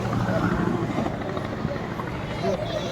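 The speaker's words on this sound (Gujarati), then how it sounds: "જો પેલું હેલિકોપ્ટર લેન્ડ થાય છે." A helicopter comes in to land at Gold Reef City, a steady rotor rumble and whir heard from some distance beneath people talking nearby.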